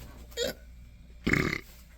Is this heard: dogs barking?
no